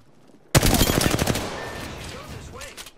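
Sudden loud automatic gunfire in Apex Legends, a rapid close burst of shots that gives way to ringing, decaying battle noise and scattered fainter pops.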